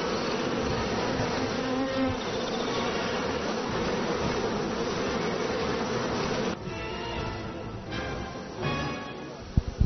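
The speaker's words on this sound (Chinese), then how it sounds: "蜜蜂开始归来" Honeybees returning to the hives at an apiary keep up a dense, steady, close-up buzz that fills the whole stretch, with the swarm's drone only briefly easing near the end.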